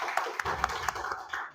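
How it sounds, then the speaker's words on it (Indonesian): Applause from a classroom audience for the final group's presentation, a steady patter of handclaps with a few sharper claps, fairly close and continuous for under two seconds before tapering off. "tepuk tangan untuk kelompok terakhir"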